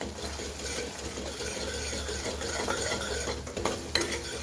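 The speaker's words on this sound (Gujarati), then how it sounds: "સરસ મિક્સ કરી લઈએ." A spoon stirs chole masala seasoned with salt in a hot pan, scraping steadily through a continuous sizzle of frying spices, with a few sharper clinks of utensil against metal near the end.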